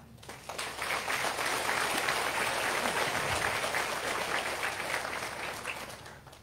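Applause from a crowd at a mine announcement event in Mokopane, a broad, steady burst of clapping that swells in quickly, holds for several seconds and then tapers slightly, heard at a moderate distance without talking.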